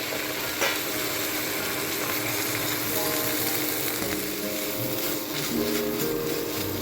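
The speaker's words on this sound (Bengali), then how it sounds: "এবার এটাকে আমি ভালো করে নেড়ে নেব, জল দিয়ে ভালো করে মিশিয়ে নেব" Chicken kachori filling with spices and water cooks in a pan, giving a steady close sizzle throughout, broken by scraping stirring strokes.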